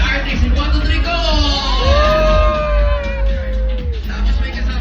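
Studio audience of the TV show It's Showtime shouting and whooping, rising and falling yells over a loud crowd babble, close and energetic throughout.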